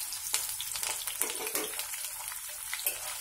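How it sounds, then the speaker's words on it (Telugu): Tempering spices crackle and pop in hot oil for a little millet upma. Uneven bursts of sizzling spatter rise and fall over a hissy background, close by and with no talk. "ఇంకా పోపులన్నీ ఇలా వేసుకుందాం"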